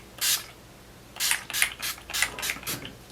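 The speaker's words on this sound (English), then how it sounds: "spray my face with the All Nighter Spray by Urban Decay" Urban Decay All Nighter setting spray mists onto a face in quick close pumps, one hiss and then a rapid run of about six more short sprays.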